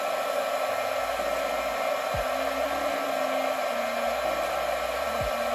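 A heat blower warms a GoPro Hero 8 camera for a teardown, a steady close airy roar with a faint motor whine that shifts pitch a few times.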